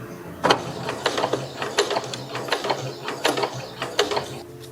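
Sewing machine stitching a corset, a close, fast run of rhythmic mechanical clicks and whirring pulses in short bursts, alone without voices.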